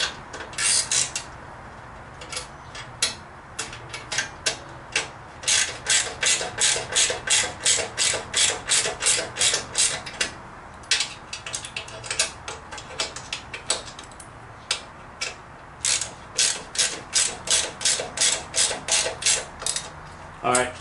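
Lug nuts on a car's 21-inch front wheel are tightened with a ratchet: close, sharp, rapid clicking in repeated bursts with brief pauses, running steadily throughout.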